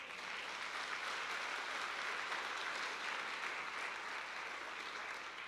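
A church congregation applauds during a worship service, producing a steady, even wash of clapping that stays fairly quiet and distant from start to finish with no voices on top.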